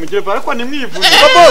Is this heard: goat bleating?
yes